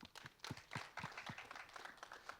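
An audience claps at a trailer launch event for the Punjabi film Jatt and Juliet 3, with scattered, faint hand claps in an uneven patter that gradually thins out.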